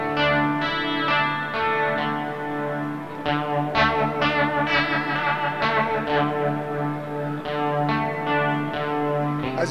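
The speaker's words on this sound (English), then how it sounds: "So we have a Leslie simulator." Leslie rotary speaker simulation on a Tech21 Richie Kotzen RK5 V2 pedal, heard on sustained guitar chords that swirl and pulse with wavering, chorus-like modulation, loud and continuous throughout with no talking.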